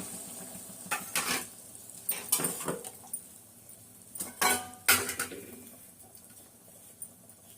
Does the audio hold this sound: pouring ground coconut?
yes